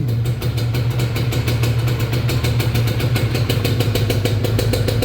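Rebuilt Honda NSR 150SP two-stroke motorcycle idling close up, a steady, loud, rapid crackling putter with no one speaking.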